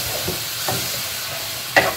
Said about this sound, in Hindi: पुरो मसलाटाके भालो करे खुंतिर साहाज्ये नेड़े कषाते हबे